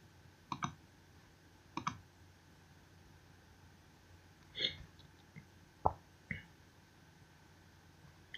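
A computer mouse clicks a button on a website, a few faint isolated clicks scattered over a quiet background with soft pauses between them.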